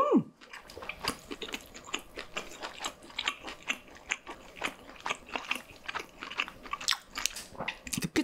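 Close, crisp crunching and chewing of pizza topped with pickles, rose chicken and white chicken varieties, with a rapid, irregular run of bites and chews and no talking.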